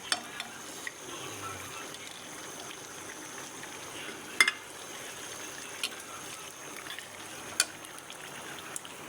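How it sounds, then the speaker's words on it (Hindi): Boiled meat with spices sizzles softly in a pot as it is fried and stirred, a quiet steady frying hiss broken by occasional sharp clinks of a spoon against the pot. "मैंने इसमें डाल दिया है गोश्त, उबला हुआ गोश्त डाल दिया। अब इसकी मैं बुनाई करूँगी।"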